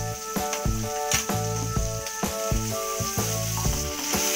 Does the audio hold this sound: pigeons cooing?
no